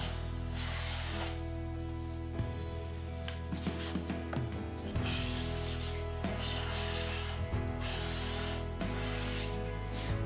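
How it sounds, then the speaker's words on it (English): A hand plane makes repeated smoothing passes over a wooden board, roughly four or five close, loud rasping strokes of a second or two each, set against a steady low tonal background. "In this shot, I've already done a few passes and you can see how smooth the surface of the wood actually becomes."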